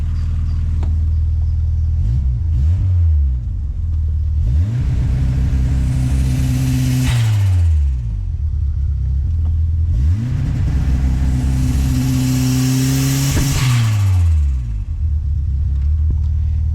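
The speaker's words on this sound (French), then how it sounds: "le turbo tourne beaucoup plus vite qu'avant au ralenti" A Volkswagen Golf 2 with a 1.3-litre turbo engine idles loud and close in a steady low rumble, swelling twice into longer rev bursts with a rising turbo whine before settling back to idle.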